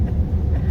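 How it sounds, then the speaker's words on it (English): Steady low road rumble from inside a car cruising on a long highway drive, a constant engine and tyre drone with no talk. "We're still driving."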